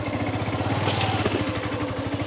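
A motorbike pushes through a flooded, water-filled rural path toward a mango orchard, its engine a steady close rumble with rhythmic pulsing and a brief splashy clatter midway.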